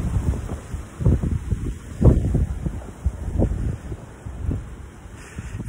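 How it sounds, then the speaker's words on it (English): Strong wind buffeting the microphone outdoors, irregular low gusts swelling and fading over a few seconds, close and rough, with no talk. "It's very windy."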